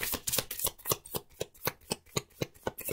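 Lenormand tarot cards being shuffled by hand, a quick run of about a dozen crisp riffling flicks in steady rhythm, close and fairly quiet, with no talking.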